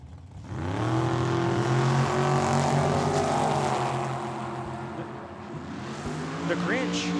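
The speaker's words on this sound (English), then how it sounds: "we got the dragster here on the right-hand side" Drag racing cars launch down a dragway strip with a loud, sustained engine roar that builds and fades, a second engine rising near the end, while an announcer talks over the noise.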